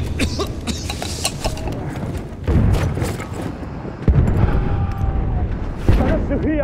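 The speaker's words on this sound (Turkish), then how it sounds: "Bomba atıyoruz!" Heavy explosions boom through a Battlefield 1 Conquest battle, with several loud blasts, the biggest near 2.5, 4.1 and 5.9 seconds, over constant mechanical rumble and combat noise.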